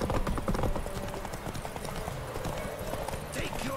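A horse galloping in The Witcher video game, rapid rhythmic hoofbeats pounding close and loud throughout, with game ambience and a voice speaking over them.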